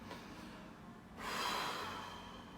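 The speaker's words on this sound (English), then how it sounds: "All right, so 3 breaths. Inhale." A deep, drawn-in breath through the nose during cranial facial release treatment, close and steady, rising in strength midway and held for over a second, with no talking.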